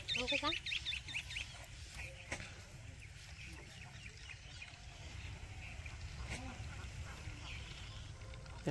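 Geese on the water, their honks and quacks coming through at a moderate distance over a rural village background, with people talking nearby.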